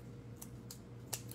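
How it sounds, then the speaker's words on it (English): Scissors trim ribbon on a sunflower fabric cutting-board decoration, three quick, faint snips spaced through a quiet room. "I'm gonna trim this side"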